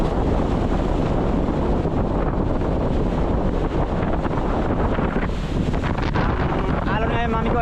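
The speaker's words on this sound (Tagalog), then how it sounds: "Hangin lang, nasa mga 30 km per hour ang hangin." Strong wind of around 30 km per hour at sea aboard a motorboat on rough water, a loud constant buffeting roar against the microphone mixed with wave and hull noise, with faint talk near the end.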